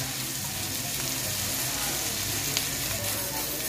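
Onions softening in a hot pan for balbacua, a dense, steady sizzle throughout at close range with one faint tap, no speech.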